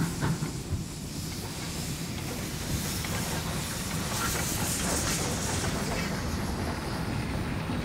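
A 1912 Scottish-built vintage steam train with wooden cars rumbles steadily along the tracks with a continuous low clatter and faint hissing, the sound constant and fairly close throughout.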